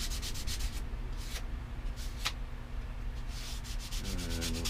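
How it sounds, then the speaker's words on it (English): Propeller tips being sanded by hand with 100 grit sandpaper, a steady close rubbing scratch with repeated strokes, running continuously and alone. "So we're going to sand to this shape around our propeller tips."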